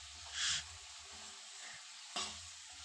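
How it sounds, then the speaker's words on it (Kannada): A ladle stirs drumstick sambar with turmeric powder and salt in a pot, giving two brief, quiet scraping strokes about two seconds apart with no talk. "ಅರಿಶಿನ ಪುಡಿ ಉಪ್ಪೆಲ್ಲ ಮಿಕ್ಸ್ ಆಗೋ ಥರ ಸೌಟಲ್ಲಿ ತಿರುಗಿಸ್ಕೊಂಡಿದ್ದೀನಿ"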